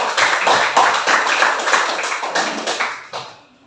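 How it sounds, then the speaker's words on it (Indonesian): Schoolchildren in a classroom give a short burst of applause at the end of a presentation, dense clapping from many hands that fades away after about three seconds. "tepuk tangan lagi sekali ya"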